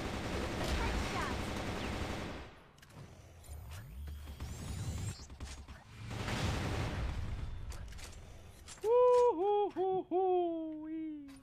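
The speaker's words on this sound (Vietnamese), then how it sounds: "Cảm giác bắn nó không giật kìa." Rapid gunfire bursts from the mobile game Arena of Valor (Liên Quân) rattle through the first half over busy game effects, followed by loud tonal ability or UI sweeps near the end.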